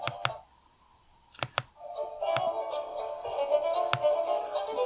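About six sharp button clicks on a Prunus J-988 AM/FM stereo MP3 headset radio, spaced irregularly and close up, over a steady tonal hum and faint music from the radio.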